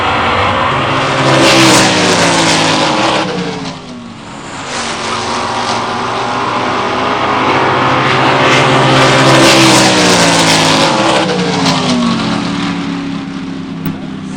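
A drag race pits a Chevelle LS6 against a 1966 Impala with a 283 engine, their engines roaring loudly through rising and falling revs as the cars launch and accelerate, swelling again toward the end.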